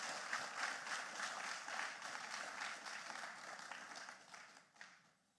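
An audience applauds at a lecture, a dense, steady round of many hands clapping together that holds for several seconds before thinning and fading out toward the end.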